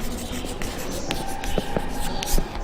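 Pen or chalk scratching out short notes during a chemistry lesson on metals and metallurgy, with soft, close strokes and small taps over a steady room hiss, and no clear talk.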